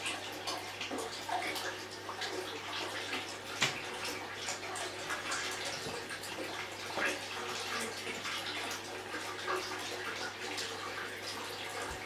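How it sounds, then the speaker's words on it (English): Water runs steadily from the flush valve of a newly installed close-coupled rimless toilet suite, a continuous trickling and splashing close by with a faint constant hum and an occasional soft knock. "That's water coming out there"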